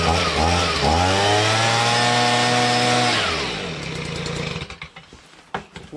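A repaired Stihl BG55 gas leaf blower engine revs loudly with a rising, buzzing two-stroke whine, holds for a few seconds, then drops to a rougher idle broken by sputters and knocks.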